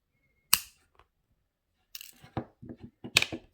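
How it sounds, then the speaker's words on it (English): A sharp snip of cutters through thin jewelry wire rings out once, close and bright, followed by a cluster of small metallic clicks and handling taps. "And then I'm going to cut this wire."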